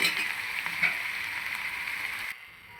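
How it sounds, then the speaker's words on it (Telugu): Curd is poured into a hot onion tempering in a pan and sizzles in a steady, even hiss with a few soft crackles before it drops away near the end. "ఇప్పుడు ఉల్లిపాయలు అయితే మగ్గిపోయినాయి కదా తాలింపులో ఇప్పుడైతే మనం పెరుగు పోసేసుకున్నాం"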